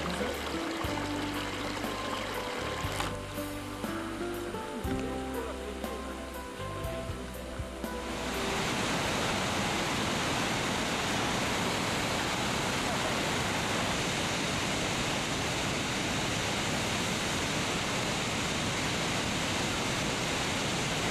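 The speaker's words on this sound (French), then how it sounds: "Les chutes de la Yellowstone River sont d'une beauté inoubliable" Roaring Yellowstone River falls send up a steady, loud broadband rush of crashing water that fills the last thirteen seconds alone, after a stretch of quieter mixed sound with low tones at the start.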